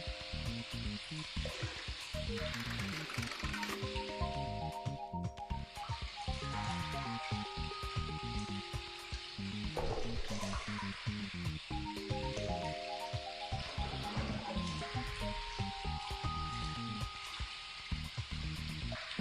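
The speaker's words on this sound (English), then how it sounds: "I can hear the beat of the rain against them." Constant rushing patter of rain against glass windows in the video game Seabed, dense and unbroken, mixed with a soft melodic game soundtrack running alongside.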